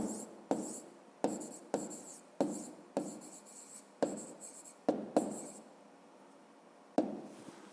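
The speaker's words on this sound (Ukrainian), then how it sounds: "Записуємо тоді відповідь." Pen strokes on paper as an answer is written out by hand for a fifth-grade maths exercise: about nine quick, rhythmic scratching strokes with short pauses, close and clear, with no talking.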